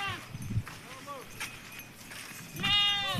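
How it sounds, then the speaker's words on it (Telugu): Sheep grazing in a field bleat a few times at moderate distance, wavering calls over steady outdoor ambience. "గొర్రెలు చూడండి ఎలా మేస్తున్నాయో"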